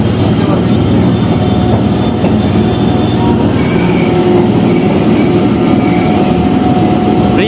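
Steady rumbling ride aboard a Kolkata Circular Rail local train, with continuous wheel-on-track roar, faint metallic squeals and a broad rattling hum throughout, loud and close with no talk.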